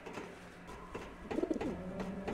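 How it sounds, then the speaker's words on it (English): A bird coos softly in the video game Fragile Dreams, a short run of low, rounded coo notes rising briefly over quiet game ambience. "Bird."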